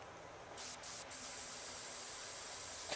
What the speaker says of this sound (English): We just sit here and spray shit until it comes off.